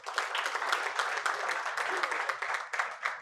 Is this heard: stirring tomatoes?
no